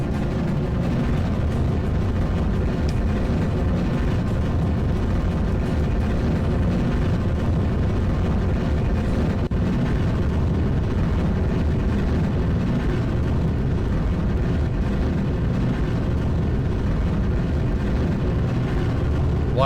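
Rocket engines throttled up during a Kerbal Space Program launch give a steady, dense low roar that fills the whole stretch, loud and unbroken with no pauses.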